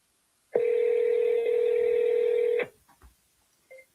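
Outgoing telephone call ringback, one long steady ring tone lasting about two seconds, close and clear, followed by faint clicks and silence.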